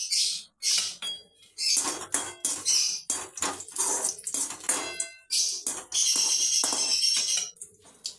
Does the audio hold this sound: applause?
no